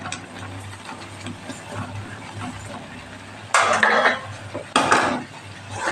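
Sugar goes into simmering milk in a pan for barej, a Holi sweet, followed by a soft hiss and two loud bursts of spoon scraping and clattering against the pan, close by, without talk.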